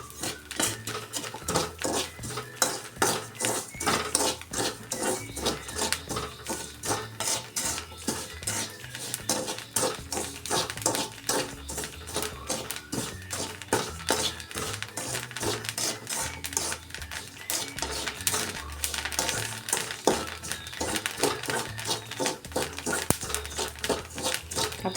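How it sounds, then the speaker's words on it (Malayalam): Rice roasting and puffing in a pan, a dense, continuous rattle of rapid dry pops and ticks against the metal, steady and close throughout. "അപ്പം നമ്മളെ അരി പൊരിഞ്ഞ് വരുന്ന സൗണ്ട് കേൾക്കുന്നുണ്ടല്ലോ അല്ലേ"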